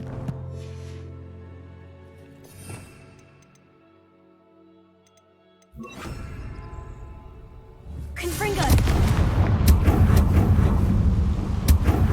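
A Bombarda blast spell in Hogwarts Legacy on PS5 erupts as a loud, sustained burst of rumbling debris and crackle after several seconds of quiet game ambience with faint ticks and a sharp impact.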